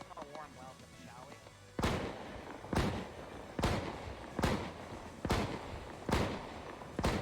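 Cannon rounds and gunfire in a battlefield video game, a series of six sharp, loud booming shots spaced roughly a second apart after brief faint talk at the start.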